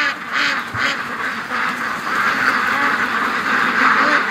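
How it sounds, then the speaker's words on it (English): Domestic ducks by a lake quack in a continuous, dense chorus close by, some penned behind wire, with no clear talking over them. "All right, ducks, we'll let you out."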